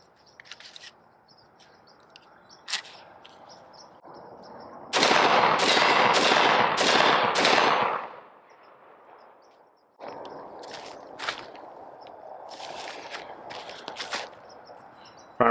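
A Black Aces Tactical S4 shotgun fires birdshot, buckshot and a heavy steel turkey load outdoors in a loud cluster of rapid shots, followed by quieter rustling, handling noise and birdsong.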